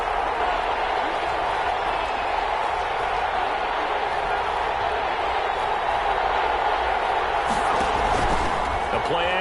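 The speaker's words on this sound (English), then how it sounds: "Crowd getting in it a bit already." Steady crowd roar from a PS4 football video game fills the whole stretch as a dense, unbroken wash at moderate loudness, swelling slightly near the end.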